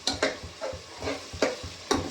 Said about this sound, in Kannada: ಪಲಾವ್ ಒಗ್ಗರಣೆಗೆ ಹಾಕಿದ್ದೀನಿ.